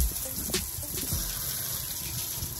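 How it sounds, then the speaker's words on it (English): Shower running cold at home while pink hair dye is rinsed out, a steady hiss of spraying water with a few splashy bursts near the start, close and continuous. "I'm taking a cold shower so that I can shower out here and wash it out with you guys."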